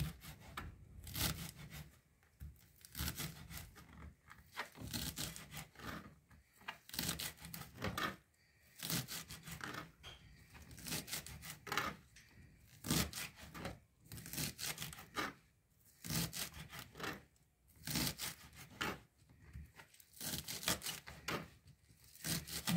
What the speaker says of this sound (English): Now I show you how I cut my spring onions, very fine.